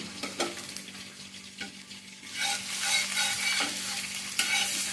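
A spice tempering of neem leaves and onion fries in oil for Udupi-style chicken puli munchi. A steady sizzle swells louder partway through, and a few sharp stirring clicks from a spatula cut across it.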